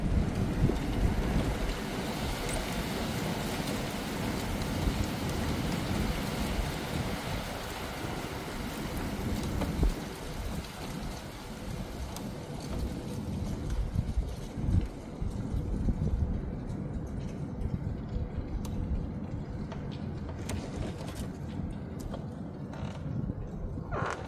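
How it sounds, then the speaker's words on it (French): Strong wind gusts roar through a night sandstorm on a hot night, a dense continuous rush with creaks and rattles, surging and easing over nearly half a minute with no talk. "Le bruit du vent."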